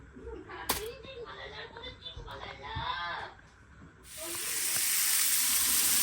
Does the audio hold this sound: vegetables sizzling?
yes